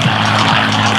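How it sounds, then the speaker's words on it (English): A P-51 Mustang with a Packard-built Merlin engine flying at an airshow, its propeller engine droning loud and steady without a break. "The Merlin engine, or the Packard license belt engine, is flying in this aircraft."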